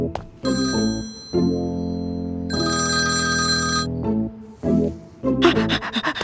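A telephone ringtone plays in repeated melodic bursts, loud and close, with a brief pause between rings.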